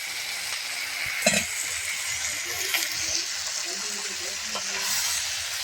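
Country chicken coated in spiced masala fries in a pan, producing a continuous soft sizzle with occasional scraping stir clatters and small bumps, close and moderate in level.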